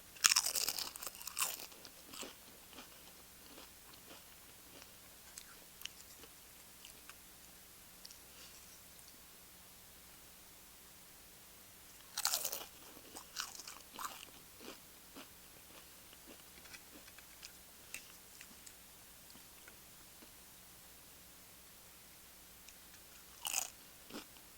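Corn tortilla chips crunched and chewed close to the mic at a quiet mukbang eating show, with sharp bursts of crunching bites at the start, near the middle and at the end, separated by softer chewing.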